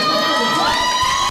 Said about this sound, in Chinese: 球迷的尖叫声快要喊破桃园机场的屋顶。